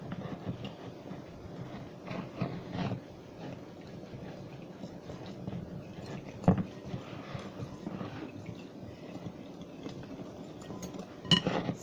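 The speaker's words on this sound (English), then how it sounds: "You whisk it together." A honey mustard marinade for chops being whisked in a bowl, with steady light clinking of utensil against dish and a couple of sharper taps, fairly close, with no talk.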